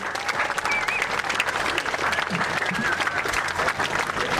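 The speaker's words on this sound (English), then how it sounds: "Round of applause for our beautiful young children here" A crowd at a World Cup Tag opening ceremony applauds young children, a dense, steady wash of clapping lasting the whole stretch, with faint voices mixed in.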